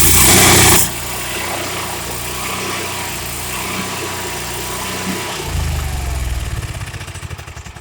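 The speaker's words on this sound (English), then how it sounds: "To start the coach then, push down the other side of the switch." Onboard generator of a 2020 Alante 27a motorhome cranking and catching, then settling into a steady mid-pitched engine drone that grows slightly louder and throbbing toward the end, heard alone with no talk.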